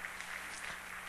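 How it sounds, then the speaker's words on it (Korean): Church members at a Wednesday service clap in encouragement and blessing as a youth group files out, a soft, continuous wash of applause from a crowd. "우리 다 들어갈 때까지 우리 격려와 축복의 박수"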